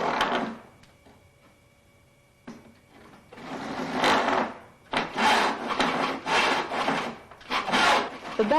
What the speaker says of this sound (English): The back saw is specially designed for cutting joints.